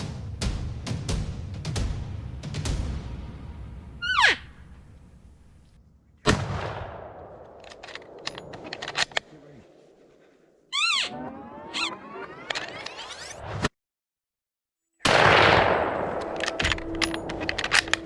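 Rifle shots ring out during a bull hunt in wooded country, several sharp cracks with long decaying echoes spaced over the stretch, loud and close with silent gaps between them.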